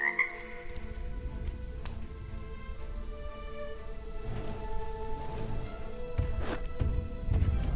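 Frogs croak steadily in the game RiME over a soft bed of rain patter, the calls repeating in overlapping pulses at close to mid distance with no voices.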